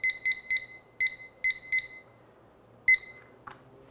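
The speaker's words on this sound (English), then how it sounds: "I'm actually going to set my timer." A kitchen timer beeps in short paired electronic chirps, several quick bursts in an irregular rhythm followed by one more after a pause, close and clear over a quiet kitchen while dough for hot cross buns is being made.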